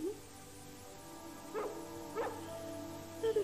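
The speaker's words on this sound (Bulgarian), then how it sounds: "Понякога нощем ги чувам да лаят." A dog gives a few faint yips and whimpering barks, scattered and distant, over a steady background hum.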